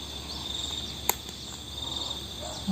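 A cricket chirps in a steady high trill close to the microphone, with one sharp click partway through and a soft bump at the end.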